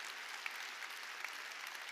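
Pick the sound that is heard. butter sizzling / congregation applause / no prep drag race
congregation applause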